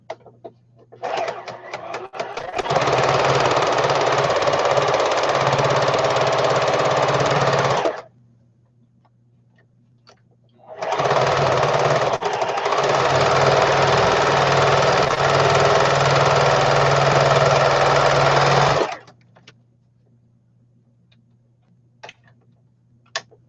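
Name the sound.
sewing machine stitching a small tight zigzag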